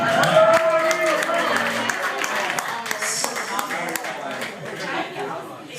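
Audience applause at an Italian evening with live music at a restaurant in Bad Nauheim, steady clapping and crowd noise mixed with music and voices throughout.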